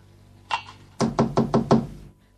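Knocking on a wooden door: one quick double knock, a short pause, then five firm evenly spaced raps, close and loud with no voices.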